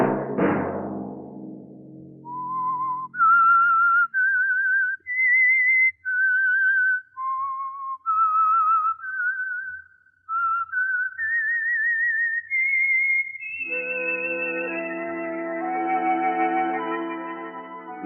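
A solo whistler carries the theme melody of the radio show The Whistler, clear reverberant notes rising and falling one at a time, ending on a long held tone over soft orchestral backing.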